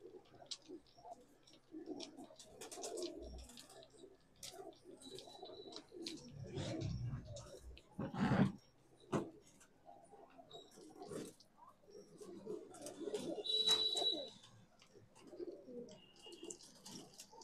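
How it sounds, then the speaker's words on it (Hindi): Madrasi pigeons held for sale coo softly in repeated low murmurs, with faint ticking and scattered background noise around them, close but quiet. "मद्रासी कबूतर।"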